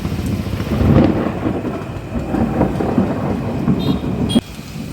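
Thunder rolling during a heavy rainstorm, deep rumbling swells over a steady wash of rain, loud and close, ending abruptly.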